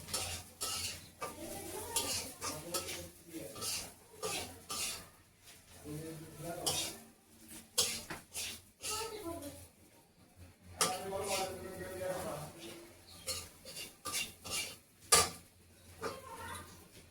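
Potato curry frying in a pan while a spoon stirs it, with repeated scraping and clinking of utensil on metal over a soft sizzle in a home kitchen.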